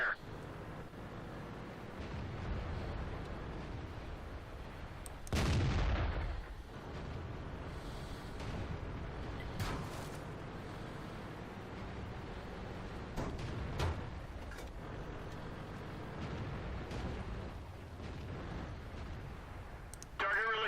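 A heavy IS-3 tank's main cannon fires in the game World of Tanks: one loud, sharp blast about five seconds in, with further gunfire and impacts after it, all over a low engine rumble and game voice callouts.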